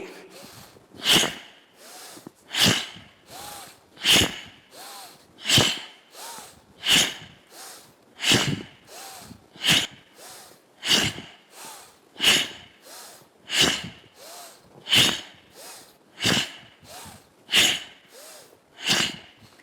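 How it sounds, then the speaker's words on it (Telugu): Deep yogic breathing, forceful exhales through the nose repeated about every 1.3 seconds in a steady rhythm, close and loud with no talk. "మీరు శ్వాసని పీల్చుకొని వదిలేస్తే ఇక్కడ వెంటనే మీ లంగ్స్ నార్మలైజ్ అవుతాయి"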